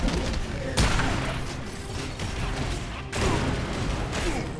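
Booming cannon blasts from the video game Knack 2 go off, two heavy hits standing out over a constant roar of battle noise.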